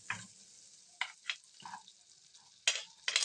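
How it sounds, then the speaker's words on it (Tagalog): Minced garlic sizzles in melting butter in a pan, with a soft steady frying hiss broken by a few scraping stirs. "lagay na natin yung bawang para habang natutunaw yung ating butter"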